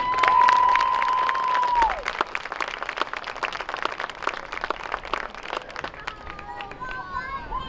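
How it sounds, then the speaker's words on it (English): Football seniors at a high school game get a round of applause from the stands, dense clapping and some cheering that stays steady, then thins slightly toward the end, with a faint tone at the start. "One more big round of applause for your football seniors."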